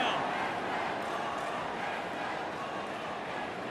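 A stadium crowd roars and cheers in the AFL Evolution 2 football video game during an Essendon versus Collingwood match, a steady broad wash of distant noise that stays fairly quiet throughout.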